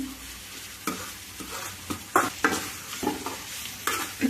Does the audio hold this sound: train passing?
no